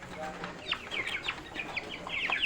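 Broiler chickens fed an azolla mix cluck and chirp in a busy, overlapping chorus of short calls close by, with light rustling and a faint voice in the background.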